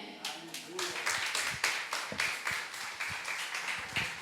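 Church congregation applauding, a lively round of many hands with sharp individual claps standing out, fairly close and sustained, with some voices mixed in underneath.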